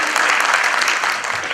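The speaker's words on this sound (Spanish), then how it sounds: "Un fuerte aplauso," Dense clapping from a forum audience fills a short stretch, loud and even from start to finish with no break.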